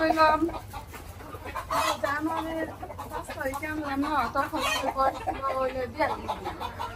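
Hens cluck repeatedly and close by inside a poultry farm shed, their calls overlapping while people talk over them.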